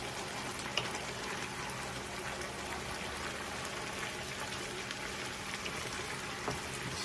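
Wine simmering and reducing in a pan of mushroom risotto, a soft, steady bubbling sizzle like light rain, faint and continuous with no talking.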